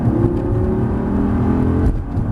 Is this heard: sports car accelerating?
yes